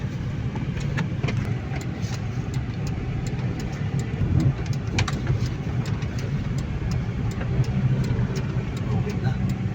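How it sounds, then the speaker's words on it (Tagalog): A Honda CR-V with a rebuilt transmission is driven on a road test, its engine humming steadily at moderate volume inside the cabin, with people talking over the drone. "Road test na po natin yung Honda CRV rebuild, transmission rebuild."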